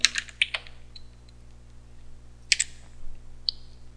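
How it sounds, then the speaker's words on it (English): Sharp keystrokes on a computer keyboard entering a terminal command in short bursts, a quick cluster at the start and a few isolated clicks later, over a steady low hum with no voices. "let's switch to our documents directory by typing in cd space documents"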